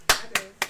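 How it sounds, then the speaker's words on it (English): Three sharp hand claps ring out in quick, slightly uneven succession, close and distinct, with no talking over them. "I'm only clapping just because it's a clap."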